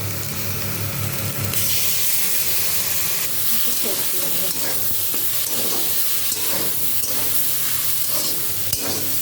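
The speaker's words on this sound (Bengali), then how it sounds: "হালকা করে আলুর সাথে ভেজে নেব এর মধ্যে তৈরি করে রাখা মশলার পেস্টটাকে দিয়ে দেবো" Spice paste frying with potatoes and soybean chunks in a pan, loud continuous sizzle with stirring scrapes and hissing steam throughout, no talk.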